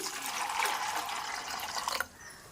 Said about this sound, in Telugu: ఇందులో వాటర్ పోస్తున్నాను